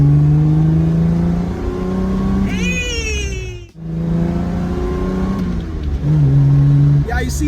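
A fast car engine revs hard in two long bursts, each climbing steeply in pitch before cutting off, then winding up again at close range over a steady idle, with a voice talking briefly between them.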